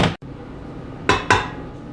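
Flour mix is stirred into chocolate chip cookie dough in a bowl, a few sharp knocks of a utensil against the bowl over a low, soft mixing rustle.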